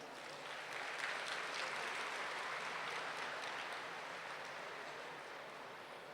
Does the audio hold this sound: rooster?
no